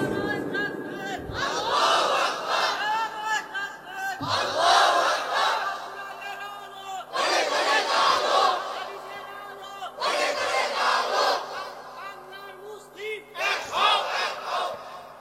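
A large crowd at an open-air religious sermon shouts slogans in unison, four or five loud, drawn-out chanted bursts separated by brief pauses, roaring and echoing across the gathering.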